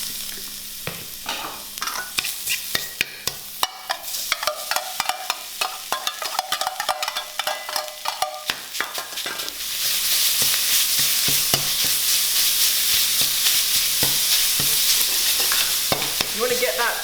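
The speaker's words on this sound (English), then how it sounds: "a quick stir fry of your pork and your Ya Cai with that dark soy sauce for colour" Pork and Ya Cai pickled vegetable stir-fry in a wok with dark soy sauce, rapid spatula clacks tapping against the metal before a loud, steady sizzle takes over.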